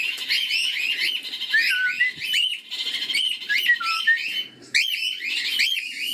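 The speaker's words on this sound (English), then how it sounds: "Cockatiel's making lots and lots of noise." Cockatiels squawk and chirp in an aviary, a dense overlapping run of bright whistled calls and harsh squawks, close and fairly loud, continuing for several seconds without pause.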